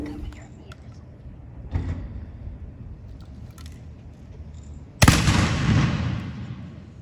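Historic cannon at Fort Henry fires one sudden loud boom that rolls off in a long, fading rumble. A few faint knocks and bumps and some quiet talk come before the blast.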